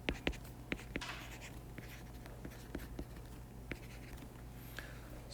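Chalk or marker tapping and scratching on a board as a quantum chemistry equation is written out by hand, with sparse knocks and strokes over a steady low hum in a quiet lecture room.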